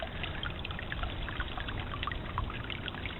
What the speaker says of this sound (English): A little bit of water rushing by me.